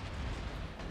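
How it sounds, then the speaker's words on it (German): Ship gunfire in World of Warships from a battleship such as the Amagi, heard as a dense, low rumbling boom that fills the whole short moment, fairly quiet and without speech. "Und da sind die Schüsse jetzt von ihm unterwegs in der Luft."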